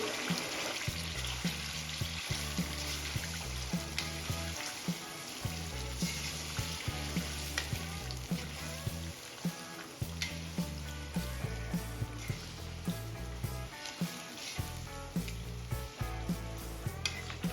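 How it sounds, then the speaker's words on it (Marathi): Marinated chicken sautéing in oil with golden fried onions in a pan, a dense steady sizzle with scattered crackles and stirring clatter under a backing music track, no talking. "इथे चिकन मी छान ऑइल मध्ये परतून घेतलं"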